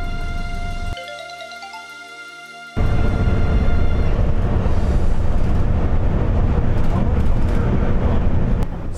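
A brief electronic chime sounds, then a loud, steady rumble of a train rolling along the rails near Nagoya Dome-mae Yada station in Nagoya fills the rest.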